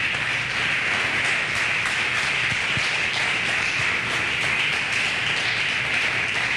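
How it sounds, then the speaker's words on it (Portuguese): Sustained congregational applause fills a church service, dense and steady throughout with no let-up, a broad wash of many hands clapping together. "Aplauda ao Senhor."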